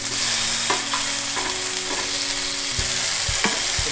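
Murrel fish fries in hot oil, a dense continuous sizzle and crackle close up, with occasional soft knocks and low bumps from the pan; no one speaks.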